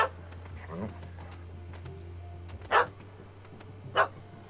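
Two short dog barks ring out in The Witcher 3 game audio, spaced apart over a steady low hum and faint background ambience, with quiet muffled voices early on.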